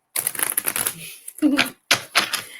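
Tarot cards are shuffled in short riffling bursts with pauses between them, close to the microphone, and a voice talks nearby.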